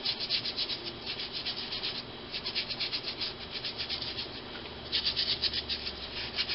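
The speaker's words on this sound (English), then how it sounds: "scrub up like I'm going into surgery here" Hands and fingers being scrubbed thoroughly in a surgical-style scrub, a steady rubbing and brushing sound with rhythmic strokes, close and fairly quiet, with no talking.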